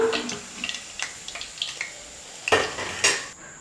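Chicken pakoda pieces deep-frying in hot oil, with a steady sizzle under repeated metal clinks and scrapes from a utensil stirring in the pan, close and fairly quiet, no voices.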